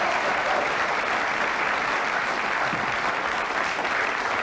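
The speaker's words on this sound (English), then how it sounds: "That deserves a round of applause." A TV studio audience on a live talk show claps steadily, a dense, even wash of applause at constant strength throughout.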